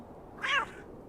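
A single short video game cat meow, clear and close, rising then falling, surrounded by quiet.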